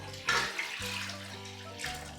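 Two quarts of well water poured into a pot for a pickle brine, a close, gurgling splash that surges at the start and continues steadily under a faint low hum.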